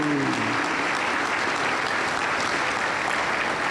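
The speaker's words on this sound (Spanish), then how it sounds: "Aplauso para el Señor Jesús." Sustained applause from a church congregation at a Pentecostal service in Peru fills the space, a dense, steady roar of clapping at even loudness from start to finish.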